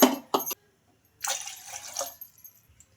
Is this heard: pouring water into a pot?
yes